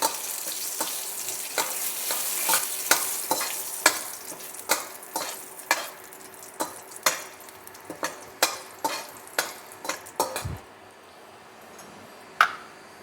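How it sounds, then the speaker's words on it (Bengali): Bay leaf and two or three dried red chillies frying in hot oil, a steady sizzle broken by a regular series of sharp pops and crackles, close and fairly loud, fading near the end. "এবার এর মধ্যে দিলাম একটু তেজপাতা আর 2-3টে শুকনো লঙ্কা ফাটিয়ে দিয়ে দিলাম।"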